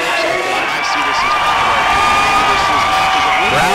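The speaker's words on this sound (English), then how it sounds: "Crowd loves it." A loud arena crowd cheers and whoops at the finish of a fight, a continuous roar of many voices with shouts rising through it, close and dense throughout.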